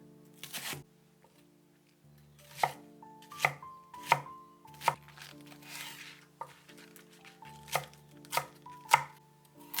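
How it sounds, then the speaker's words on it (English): A knife chops garlic chives and bok choy on a board in a quiet kitchen, a series of crisp close cuts in uneven bursts, about a dozen strokes, with faint hum between them. "Now cut the vegetables, 80 grams of garlic chives in sections. One bok choy in chunks."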